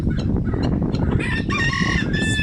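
Polish bantam chickens crow and cluck close by, with overlapping strained calls and a busy flock chatter running continuously throughout.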